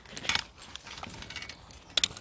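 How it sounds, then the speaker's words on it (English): A metal K-hook is unclipped from a zip-line trolley on a training course, producing light metallic jingles and clinks in two short bursts, close and fairly quiet. "To dismount at the end of the zip, first remove the K-hook from the back of the trolley"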